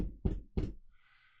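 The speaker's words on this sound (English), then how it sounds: "He gets to the house, he knocks on the door." Two firm knocks on a wooden door, evenly spaced and loud, followed by a faint hiss of room tone.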